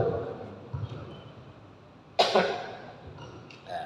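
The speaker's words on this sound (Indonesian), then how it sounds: "Batuk wae." A single sharp cough rings out midway against a quiet, murmuring background, with a softer sound trailing at the end.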